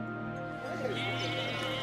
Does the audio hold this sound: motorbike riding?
no